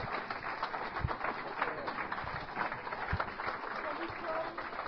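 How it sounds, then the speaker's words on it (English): An audience at an Alcoholics Anonymous Big Book study weekend at St. John's University in New York applauds itself, a dense, muffled, continuous patter of many hands. "I want you to give yourselves one big round of applause,"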